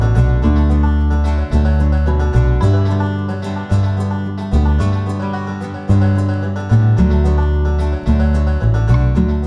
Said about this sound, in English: So those string elements in the chorus sound like this.